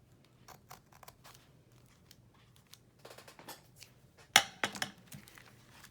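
Scissors snip across lace in a quiet room, giving a series of faint, crisp blade clicks and cuts, with a louder cluster of sharp snips near the end.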